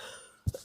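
A single quick, sharp intake of breath, close and quiet, after a brief hush.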